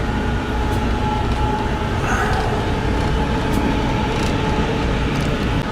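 A freight train rolls on steadily beneath a rider on a co-load car, with a dense continuous rumble and rattle of wheels and couplings, loud and close, with no pause or talk.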